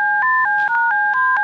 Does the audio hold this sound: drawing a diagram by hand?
no